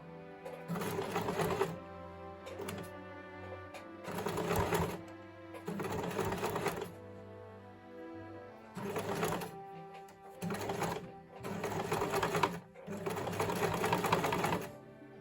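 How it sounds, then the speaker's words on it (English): A sewing machine stitches bias binding onto a sleeveless top in short loud bursts, running forward and back several times with brief pauses between runs. "I'm going to start with my back stitch. So I'll do a couple forward, couple back"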